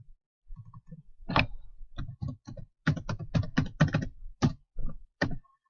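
Computer keyboard keys clatter in short clustered bursts, close and distinct, with brief pauses between groups of keystrokes and no voices.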